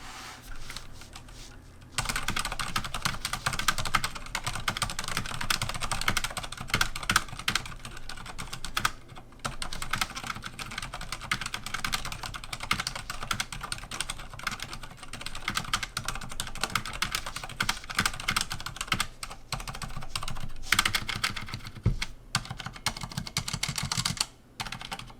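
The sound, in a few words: typing on a new mechanical keyboard with tactile clicky switches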